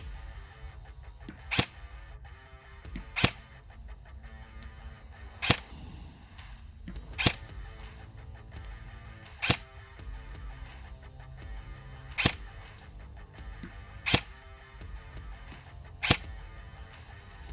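Single shots from a VFC G28 airsoft DMR (Heckler & Koch licensed) fired at a target about 60 meters away, eight sharp cracks spaced roughly two seconds apart over steady background hum, no talking.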